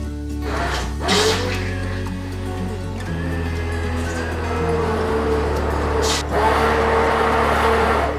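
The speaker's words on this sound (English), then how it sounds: "So I have taken it out from the pan and now I will blend it." Countertop blender pureeing the cooked onion-tomato base for chicken tikka butter masala, a loud steady motor whir that shifts pitch in several stages as the load changes, running continuously close to the mic.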